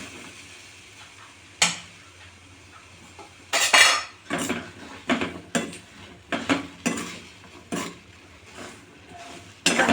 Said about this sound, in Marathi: ह्याला व्यवस्थित छान असे खरपूस होईपर्यंत आपल्याला हे शेंगदाणे मिठामध्ये छान भाजून घ्यायचे आहेत